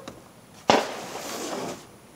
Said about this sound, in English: you hear some gunshots, somebody's out here shooting